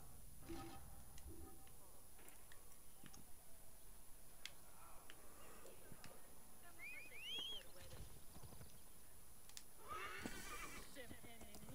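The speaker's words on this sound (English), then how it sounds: "A horse. Horsey town." Faint horse whinnies and light hoof clatter rise from a town in Assassin's Creed Origins, two short neighs standing out over quiet game ambience and soft ticking.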